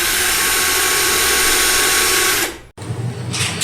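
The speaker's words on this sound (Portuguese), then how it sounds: "você vem com a sua furadeira, utilizando uma broca número 8 para concreto e faz os furos nos locais onde você marcou" Power drill fitted with a size 8 masonry bit boring holes into a concrete wall, a loud steady high-pitched whine lasting about two and a half seconds before cutting off, then a brief quieter burst.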